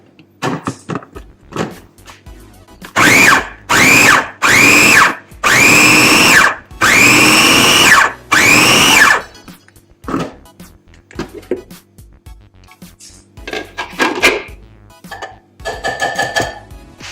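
A blender mixes an onion and cilantro kebab marinade in four loud, sustained pulses of whirring, each about a second long, followed by quieter clatter and a few short whirs.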